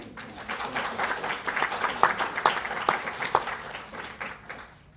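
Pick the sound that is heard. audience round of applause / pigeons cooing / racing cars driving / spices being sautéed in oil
audience round of applause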